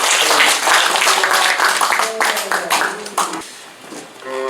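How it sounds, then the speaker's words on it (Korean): Audience claps at the close of a special history lecture, a dense burst of hand claps that fills the room loudly, then thins and fades toward the end, with some voices mixed in. "뜨거운 박수로 열광해 주십시오."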